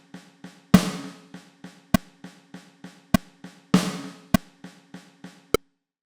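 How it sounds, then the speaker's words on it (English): A snare drum pattern with a very distinct backbeat: sharp, loud snare cracks land at regular intervals among softer ghost-like hits, forming a steady groove with no voices. "there's a snare drum pattern with a very distinct backbeat that looks like this."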